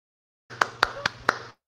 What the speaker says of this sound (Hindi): अच्छा ताली मार रहा है